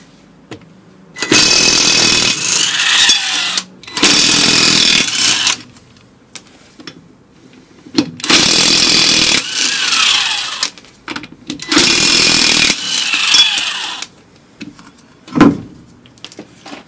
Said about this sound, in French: clé à choc douille de 17